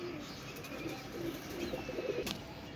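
Golden pigeons coo softly and repeatedly at close range, low murmuring calls rising and falling over a faint background hiss, with no talking.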